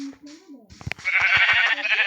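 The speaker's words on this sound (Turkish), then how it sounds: "Altı tane koyun var." A sheep in Minecraft bleats briefly alongside a voice, followed by clicks and a louder, sustained bleating sound close by.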